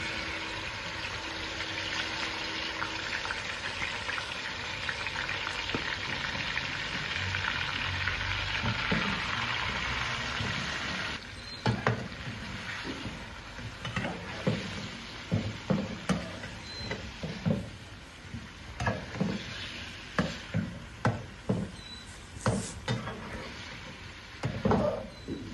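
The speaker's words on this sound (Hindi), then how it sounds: "जो मैंने मटन मैरिनेशन करके रख दिया था, अब वही मैं मटन इसमें शामिल कर रहा हूँ।" Marinated mutton hits a hot pan for a zafrani korma, starting with a steady loud sizzle that then breaks into repeated scraping and stirring clatter over continued frying, close up with no talking.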